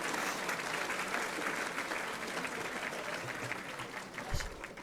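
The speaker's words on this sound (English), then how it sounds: "So other gets the biggest applause." A ceremony audience in a large hall applauds, a broad, steady roll of clapping that sounds fairly distant and stays even, with faint crowd murmur underneath.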